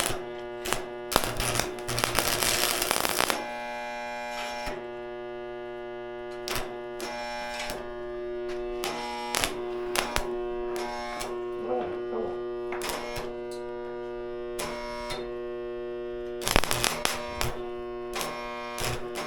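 Stick welding by a first-time welder, a rod dragged along to burn off its hot end, with crackling, buzzing bursts of arc that start and stop repeatedly over a steady electrical hum.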